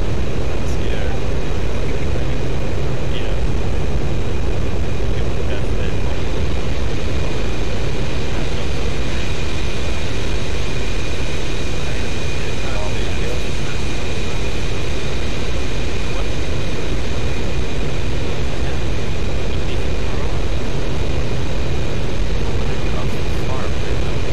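Military jet aircraft in the DCS World flight simulator roar steadily as they take off, a loud, continuous engine rumble with a thin whine that holds unbroken throughout, and voices talking faintly underneath.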